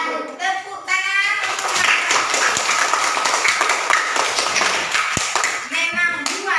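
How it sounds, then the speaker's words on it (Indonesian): A crowd of schoolchildren in a classroom claps together in a dense, loud round of applause. A voice is heard at the start and again at the end. "Tepuk tangan."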